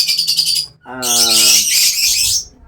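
A pair of African birds, Blue Opaline, give a few loud close chirps and squawks, a short burst followed by a longer harsh call.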